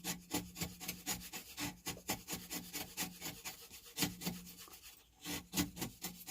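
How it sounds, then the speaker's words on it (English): A chisel shaves wood flat at the bottom of a dovetail halving joint, giving rapid rhythmic scraping strokes, close and steady, with no talk. "we're just leveling the bottom of this out, keeping the chisel nice and flat."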